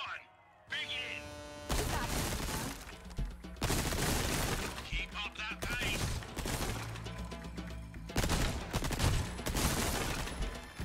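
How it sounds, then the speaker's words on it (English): TMP submachine gun firing at targets in Resident Evil 4, with long rattling bursts separated by brief gaps and clicks, under a player's talking voice. "So this is an SMG."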